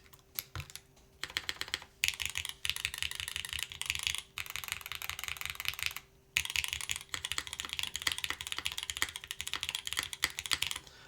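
Fast typing clatters on a rebuilt Optica mechanical keyboard fitted with harder durometer O-rings, dense keystroke bursts with brief pauses between runs, close and clear.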